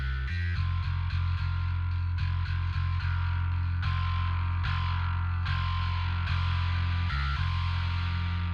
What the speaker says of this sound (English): And we have our high distortion here. This is really to get that kind of top end stringy sound into your bass